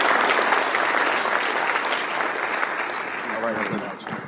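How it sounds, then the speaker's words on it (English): An audience at a chamber of commerce legislative preview gives a loud, sustained round of applause for a senator and a doctor, dense clapping that fades slightly toward the end. "one more round of applause for the Senator and the Doctor as well for being here"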